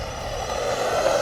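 An SG1602 brushless RC car at full throttle outdoors, its motor a steady, loud high-pitched whine that holds constant throughout the short burst, with no voices.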